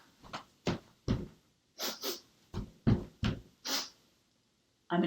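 A person imitates a big, scary ogre sniffing for people, making a series of about nine loud, close, breathy snorting sniffs in an uneven rhythm, with a short pause before a final sniff.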